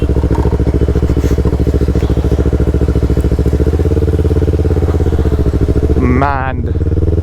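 A Yamaha R3 motorcycle with a full system exhaust rumbles loudly and steadily up close, then revs up sharply near the end with a burst of crackle.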